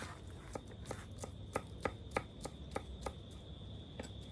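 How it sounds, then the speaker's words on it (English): Crushed garlic being cut up with a knife on a board, a quiet, regular series of crisp chops, roughly a dozen taps at an even rhythm with no talk. "Just I crush my garlic. Then I cut it up."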